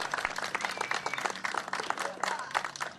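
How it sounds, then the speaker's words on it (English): Audience applause at a local community event, a dense patter of many hands clapping steadily for the full three seconds at moderate distance, fairly quiet, with no speech over it. "that deserves a big round of applause"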